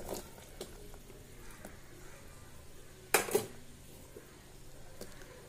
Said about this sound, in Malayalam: ഇനി നമുക്ക് കട്ട് ചെയ്ത് വെച്ച മത്തങ്ങയും കൂടെ ചേർത്ത് കൊടുക്കാം.